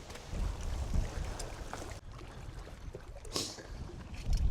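Strong wind roars steadily around a loaded boat out on the water, a continuous broadband rush with gusty swells and one sharp hissing burst near the end, with no voices.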